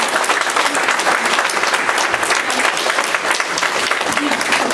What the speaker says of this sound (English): will you give them a round of applause